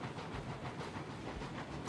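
A train rolls along in the railroad game Railroads Online, a steady rumble with soft hiss and faint rhythmic clatter, fairly quiet with no talk.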